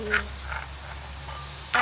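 A few short frog croaks sound amid soft rain patter at night in northern Thailand, followed by a brief burst of hiss at the end.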